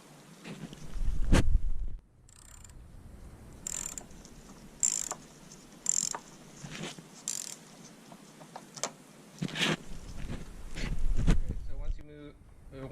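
A hand ratchet loosens the 10mm nut on the negative battery cable of a 2008 Honda Odyssey, with quiet bursts of rapid metallic clicking separated by short pauses.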